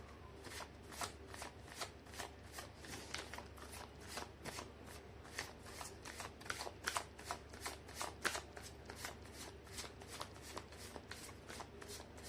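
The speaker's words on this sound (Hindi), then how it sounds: "कर लेती हूँ कार्ड की शफलिंग।" Tarot cards are shuffled by hand in a quiet room, making a steady run of soft, rapid riffling flutters repeated evenly, close and faint, with no talking.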